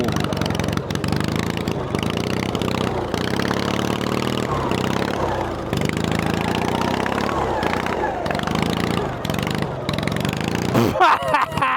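A tiny modified snow mower with a lawn mower engine driving off-road through mud: a steady, buzzing mid-pitched engine drone with small surges and choppy breaks, close by, with someone talking over it.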